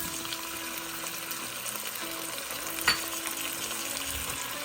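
Shrimp seasoned with garlic, pepper and soy sauce sautéing in a hot pan, a steady close sizzle with one brief sharp clatter midway.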